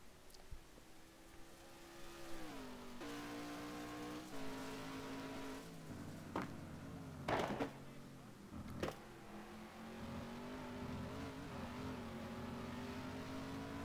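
A Nissan GT1 racing car engine in a video game race at Bahrain drones and revs steadily, pitch rising and falling through gear shifts, with a few sharp bursts and a faint voice underneath.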